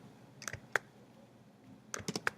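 Sparse computer keyboard typing during a programming lesson: two short bursts of a few crisp key clicks, separated by a quiet pause, faint and close with no talk.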